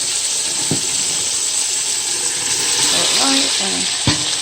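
Strained conch dumped into a pot of tomato sauce sizzles and hisses steadily, with a couple of stirring clatters and knocks from the pot, fairly close with no talking.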